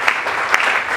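Congregation clapping during a Sunday church service, a brief burst of steady applause with a few sharper claps, no voices.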